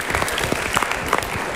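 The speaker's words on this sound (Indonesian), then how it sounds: "Kita berikan dulu tepuk tangan untuk para bosnya itu." Studio audience applauding at a motivational talk show, a lively burst of many hands clapping close and fairly loud, with distinct sharp claps standing out in the dense patter.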